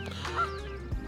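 Geese at a lake give a brief honking call amid outdoor background noise, a short nasal note heard close by.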